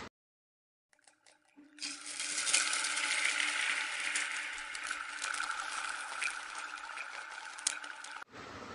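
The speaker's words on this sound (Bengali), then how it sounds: "দিয়ে ভালো করে নাড়াচাড়া করে মিশিয়ে নিচ্ছি আর লো টু মিডিয়াম ফ্লেমে ভালো করে ভেজে বা কষিয়ে নিচ্ছি" Prawn paste frying with dried red chillies and black cumin over a low to medium flame, a steady close sizzle that swells in after a quiet start and runs on with faint stirring scrapes.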